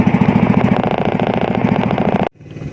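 A small fishing boat's outboard motor runs steadily with a loud, rhythmic chugging drone out at sea on a Philippine fishing trip, cutting off abruptly near the end.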